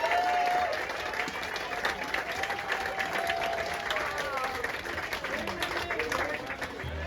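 Passengers on a Rhine river cruise applaud the entire staff on the final night, sustained steady clapping from a room full of people with faint voices mixed in.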